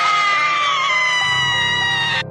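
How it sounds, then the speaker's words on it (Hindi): An old woman's sudden scream, a horror-story sound effect: a single sustained, loud, strained high-pitched shriek lasting about two seconds, then cutting off abruptly, with no talking. "और उसके बाद वो बुढ़िया अचानक से चिल्लाई"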